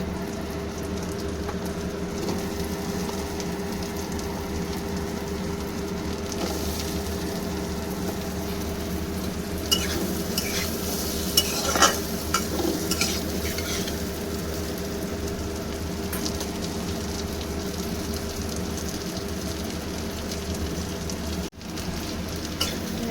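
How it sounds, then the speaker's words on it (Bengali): Potatoes and pointed gourd sizzle in hot oil in a pan, a steady close crackle with scraping stirs that grow busier midway, no one talking. "এবার এই তেলের মধ্যেই আমি আলুটা ভেজে নেব আলুটা আর পটলটা একটু তেলের মধ্যে নেড়ে চেড়ে ভেজে তুলব"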